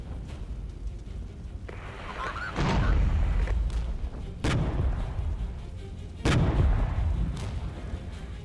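Artillery illumination rounds fire in the Regiments strategy game, three loud deep booms spaced a couple of seconds apart over a steady rumbling battlefield backdrop.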